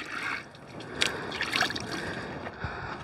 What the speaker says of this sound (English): We're now rinsing it off.